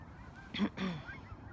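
A flock of geese passes overhead, giving a couple of honking calls at moderate distance over steady outdoor background noise.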